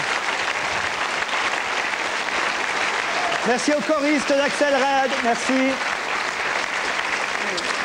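Sustained audience applause for a Belgian singer after her song on a French TV show, steady throughout, while someone speaks over it partway through.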